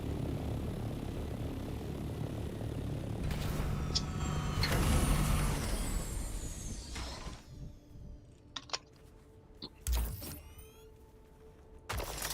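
Ornithopter copter in the Dune: Awakening video game: a steady whirring, droning engine hum runs for several seconds, then cuts out, leaving sparse sharp mechanical clicks and brief bursts.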